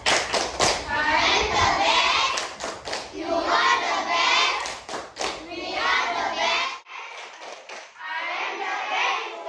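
A school class performs the "tepuk the best" rhythmic clapping chant, sharp patterned claps mixed with children's chanting voices, loud and close, ending with a brief pause then more group chanting.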